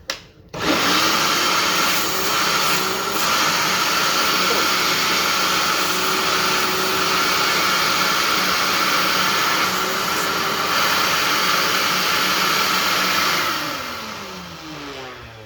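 A vacuum cleaner roars loud and continuous right up close as its suction is pushed against a dented speaker cone to pop it back out, the motor whining steadily before dropping off at the end.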